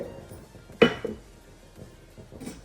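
Fenugreek seeds tipped into a pan while making sambar powder, giving one sharp clattering clink followed by a brief rattle and quiet scraping, close and clear.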